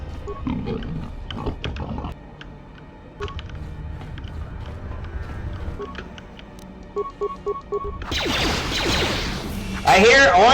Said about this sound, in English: I hear oinkers